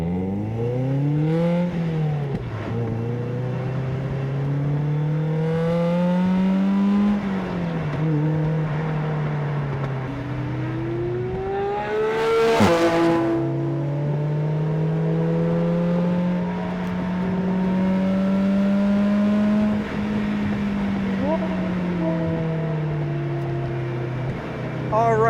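A Mazda Miata NC on a race track hums and climbs through the gears, with engine pitch rising and dropping in repeated sweeps and a sharp burst midway, heard steadily from inside the car.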